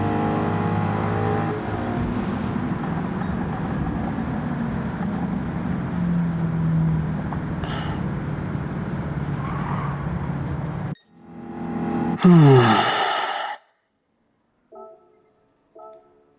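A Mercedes-AMG race car in Gran Turismo 7 runs with a steady engine drone, then revs up sharply with rising, squealing pitch sweeps, followed by a few brief short bursts and silence.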